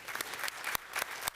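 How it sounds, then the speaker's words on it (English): Scattered applause for a retiring employee at a city commission meeting, a thin, quiet patter of a few hands with sharp isolated claps standing out. "So I want everybody to give a big round of applause to Mr. Phil Heyer here."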